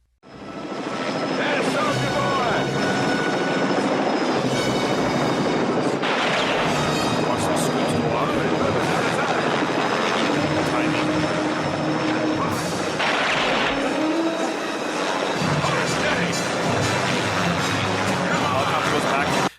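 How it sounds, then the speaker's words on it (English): Helicopter in a staged action-film scene, its loud continuous engine and rotor roar sweeping back and forth close by, with sharp bursts of squib gunfire and explosions breaking through. "The helicopter goes back and forth."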